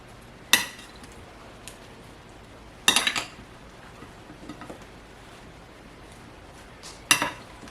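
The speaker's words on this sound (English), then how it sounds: "Stir it up" Cucumber salad stirred in a large bowl with a utensil: three sharp clinks against the bowl spaced a few seconds apart, with quieter scraping between, close and otherwise quiet.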